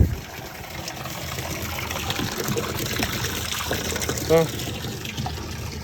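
Water runs into a tank on a farm, a steady close trickling and filling flow that continues throughout, with brief talk at one point.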